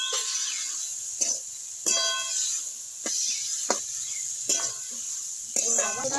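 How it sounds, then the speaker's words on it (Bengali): Water lily stems with sugar sizzle in a pan while being stirred, a soft steady frying hiss punctuated by several sharp scrapes and clinks of a utensil against the pan at irregular intervals. "এবার একটু ভাজা ভাজা করে দেবো"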